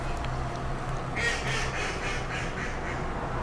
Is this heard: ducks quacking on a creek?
yes